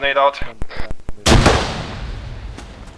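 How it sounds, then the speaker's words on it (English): A grenade detonates in the military shooter ArmA 3, a sudden loud close blast with a long rumbling decay, after a few seconds of voices talking over radio. "I'm throwing grenade there"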